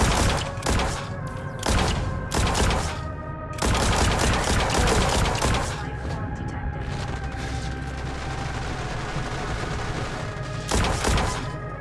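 Heavy-caliber rifle fire in the sci-fi shooter Genesis Alpha One: loud, sharp shots in quick bursts that merge into sustained firing with heavy thuds, over a constant game-soundscape hum.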